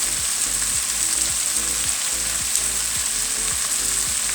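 Spinach, mushrooms and mixed herbs sizzle and fry steadily in a pan, with a continuous bright crackle and soft repeated scraping of stirring throughout, close and fairly loud with no voices.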